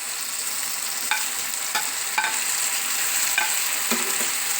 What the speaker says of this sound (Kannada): ಟೊಮೊಟೊ ಒಂದು ಸ್ವಲ್ಪ ಫ್ರೈ ಆಗಲಿ